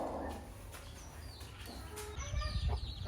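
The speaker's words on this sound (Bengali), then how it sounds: "এই যে আমার এখানে গলাচিলা মুরগিটা" A native hen on a rooftop farm clucks in short, soft bursts nearby, with other faint farmyard sounds around it.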